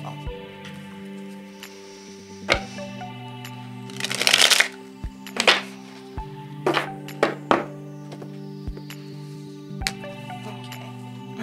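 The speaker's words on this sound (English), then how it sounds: "One more shuffle." Tarot cards being shuffled in several quick riffling bursts, crisp papery flutters and taps close by, over a quiet steady background tone.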